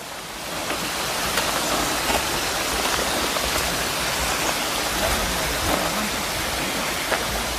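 A mountain stream fed by a waterfall rushes steadily, a loud, continuous broadband wash of flowing water with no voices.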